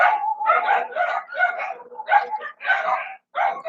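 Several dogs in the Philippines bark in loud, rapid, overlapping bursts close by, with short yips mixed in and brief pauses between volleys.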